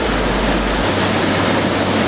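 Ocean waves breaking on the rocky coast at Fanad Lighthouse in Donegal, a loud, continuous roar of surf with a deep rumble easing partway through.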